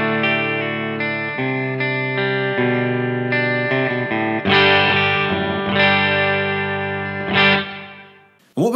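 An electric guitar plays a clean tone through a 63 Diamond pedal placed in front of the amp, with light amp reverb, giving sustained strummed chords and ringing notes, loud and close with no talking.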